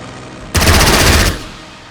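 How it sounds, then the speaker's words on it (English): Aircraft strafing run in the strategy game Strategic Mind: a loud, close burst of rapid machine-gun fire lasting under a second, cutting off sharply into quieter background. "Strafing."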